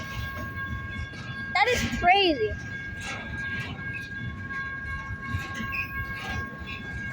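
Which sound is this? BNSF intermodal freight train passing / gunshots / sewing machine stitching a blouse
BNSF intermodal freight train passing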